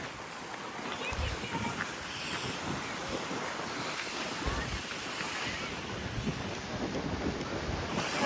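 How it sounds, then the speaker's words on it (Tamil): Rough sea waves at Pondicherry beach roar continuously, with heavy wind buffeting the microphone and no distinct breaks in the surf. "பார்த்தோன்னா கடல் பயங்கர ஆக்ரோஷத்தில் காணப்படுகிறது."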